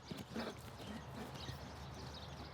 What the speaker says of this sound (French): Je le fais trotter pour qu'il se calme.